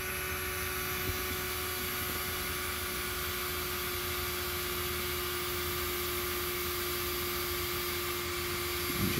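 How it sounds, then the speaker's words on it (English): Small air pump with a homemade valve adapter inflates a low-volume sleeping pad, giving a constant loud whirring hiss and steady hum at close range, with no talk. "this pad doesn't have a lot of air volume, so it actually inflates really quick"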